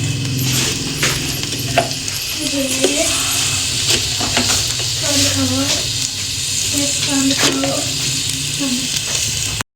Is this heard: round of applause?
no